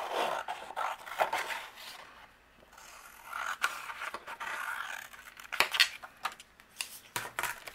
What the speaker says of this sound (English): to cut out my image, we're going to go ahead and use our scissors and separate